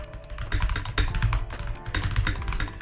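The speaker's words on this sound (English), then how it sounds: "I like the sound of typing." Fingers type hard and fast on a computer keyboard, making a close, loud stream of clacking keystrokes with brief bursts and pauses, and no one talks over it.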